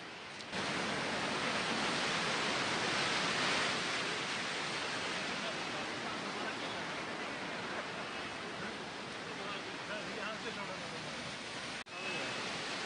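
Heavy rush of floodwater pouring through an overflowing roadside drain after sudden heavy rain, a loud, steady broadband roar that holds close and constant throughout with no talk.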